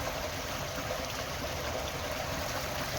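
Floodwater running like a brook across a flooded path, a steady, even rush and trickle of shallow flowing water that continues without a break.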